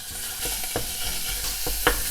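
Ground meat fries and sizzles in a pot with about a teaspoon of frying oil while a utensil stirs and breaks it apart. A steady close sizzle runs under several scraping stirs, with no talk.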